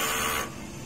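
A DTF printer runs a normal head-cleaning cycle: a loud, steady broadband whir for about half a second, then it drops to a quieter mechanical hum.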